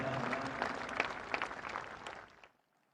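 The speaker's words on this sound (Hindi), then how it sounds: "एक बार पुनः तालियों के उद्घोष के साथ इन पलों का अभिवादन करें।" Applause from a large audience at a ceremony with India's prime minister, sustained steady clapping that gradually thins and fades out to silence.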